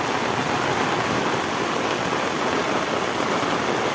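Heavy rain pours down steadily on a village, a loud, dense and continuous hiss with no breaks and no voices.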